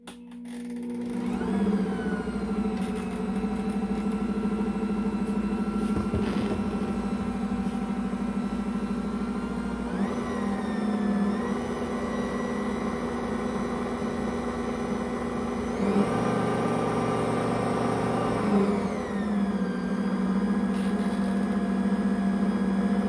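An Ankarsrum mixer stirs honey wheat bread dough with a steady, loud motor hum and whir, its pitch shifting up and down several times as the load and speed change.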